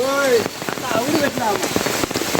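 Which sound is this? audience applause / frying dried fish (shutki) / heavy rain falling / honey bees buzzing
heavy rain falling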